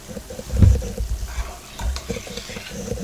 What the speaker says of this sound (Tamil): ரவையை கொஞ்சம் கொஞ்சமாக போட்டு கிளறி விட்டுக்கோங்க